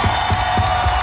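A concert crowd applauds the band with dense, steady clapping and a rough roar that fill the space throughout.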